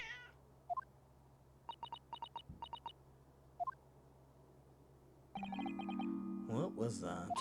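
Short game meows from a cat in The Great Ace Attorney, a few scattered high cries over quiet background music, followed by a louder burst of game sound effects near the end.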